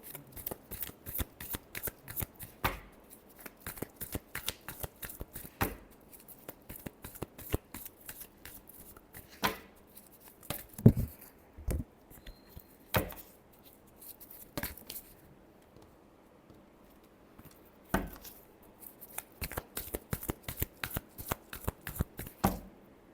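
Tarot cards are shuffled by hand in repeated quick riffles and cuts, crisp close flicks and slaps coming in irregular bursts with brief pauses, no talking over them.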